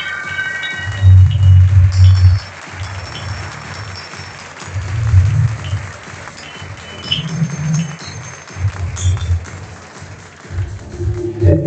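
An audience applauds steadily at the Kayak Surf World Championship closing ceremony in Argentina as placings are announced, with a loud announcer's voice over the PA rising above the clapping at intervals.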